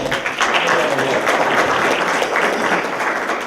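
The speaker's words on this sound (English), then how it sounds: "give them a big round of applause" Loud, sustained applause from an audience at a university cybersecurity symposium panel, many hands clapping together in a steady dense roar that fades slightly at the end.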